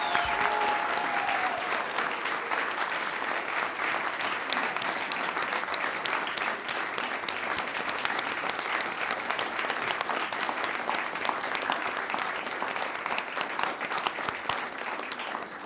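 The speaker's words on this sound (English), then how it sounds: "So how about one final round of applause for all of our student artists tonight?" Sustained applause from an audience at a Board of Education meeting, honoring student artists; a dense, steady wash of many hands clapping that holds at an even level for the whole stretch, with no talk over it.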